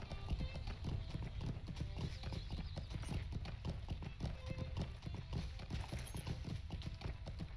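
Steady clip-clop of horse hooves at a running pace in the video game Lord of the Rings Online, continuous and fairly even, with faint background game sound beneath.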